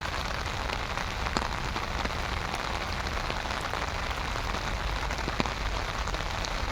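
Light rain falls steadily at the Statue of Unity, a dense even hiss of drops striking hard surfaces with scattered closer patters, constant and unbroken, with no voices.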